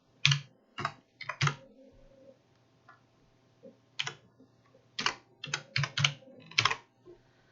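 Keys clatter on a computer keyboard as a formula is typed into an Excel spreadsheet, with close, crisp clicks arriving in short irregular clusters separated by brief pauses.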